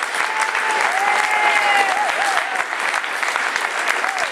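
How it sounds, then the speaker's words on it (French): Sustained audience applause for a young pianist and singer after a performance, dense and steady for several seconds, with faint voices and a cheer or two rising over the clapping. "vous pouvez l'applaudir."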